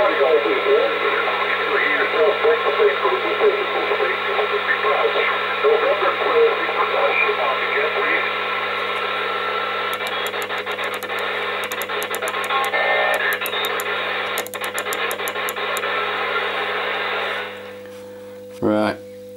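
A President Lincoln II radio receiving on the 10 meter band gives a steady hiss of static with a low hum, crackling bursts and faint garbled voices drifting through before a sharp switching noise at the end.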